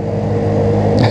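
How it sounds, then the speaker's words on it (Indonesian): Honda Zoomer motor scooter engine running steadily while riding, a continuous close low drone with a brief rise in pitch near the end. "Pelan banget nih motor."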